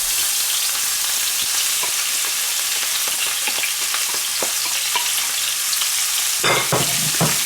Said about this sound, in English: Now let's add our veg. I'm just going to give this a quick saute.